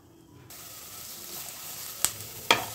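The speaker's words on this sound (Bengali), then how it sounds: "আর ক্যাপসিকাম কুচি। দু 3 মিনিট ফ্রাই করব আমরা মিডিয়াম ফ্লেমে।" Chopped capsicum and beans frying over a medium flame give a steady, soft sizzle, with two sharp clicks of a utensil against the pan near the end.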